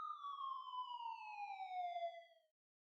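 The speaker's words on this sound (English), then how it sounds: "I hear a faint siren in the distance." A single distant siren wail in a video game, clear and steady, slowly falling in pitch for about two and a half seconds before cutting off, with no other sounds around it.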